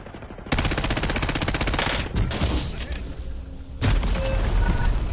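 Rapid automatic gunfire in Call of Duty, with long sustained bursts of closely spaced shots, a short gap, then another heavy burst. It is loud and close, with no talking.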